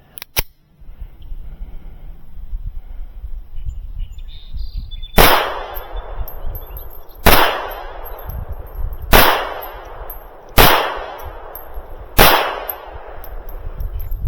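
Five loud, sharp gunshots from a .32 Manurhin PP pistol crack out at steady intervals of about two seconds, each with a short ringing decay, after a quiet stretch with a faint early click.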